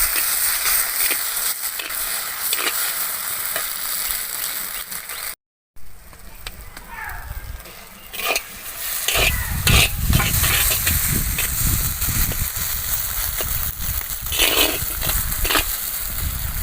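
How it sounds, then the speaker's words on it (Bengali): Pointed gourd seeds fry in oil and ghee with a steady sizzle and the scrape of stirring. The frying swells louder and fuller partway through, with a short dropout early on. "পটলের দানাগুলো আমি হালকা একটু ভেজে নিয়েছি"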